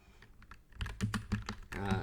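Keys clack on a new computer keyboard in a quick burst of close, crisp taps, and a voice speaks over the later strokes.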